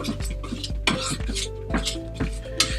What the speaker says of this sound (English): I just do it with the back of the knife, and I just roughly want to break it down into a little paste like so